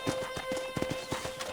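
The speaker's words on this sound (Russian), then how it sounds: "Конь за мной идет." A horse in the video game Red Dead Redemption trails close behind the rider: rhythmic clip-clop of hooves with a short whinny, set over a steady tonal game background.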